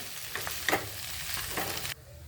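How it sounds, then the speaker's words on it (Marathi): Vegetable curry seasoned with salt is stirred in a pan, giving a close, soft sizzle with a few scraping clicks, ending abruptly after about two seconds. "चवीनुसार मीठ आणि हे मिक्स करून घेऊया"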